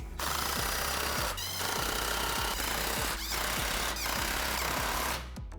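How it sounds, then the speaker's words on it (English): A power tool tightens exhaust clamps on a Borla X-pipe fitted to a 2015-2023 Mustang GT, giving loud, continuous rapid rattling hammering in several bursts separated by brief pauses. "we can go ahead and tighten all our clamps down"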